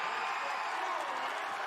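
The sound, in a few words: arena crowd applauding at robotics competition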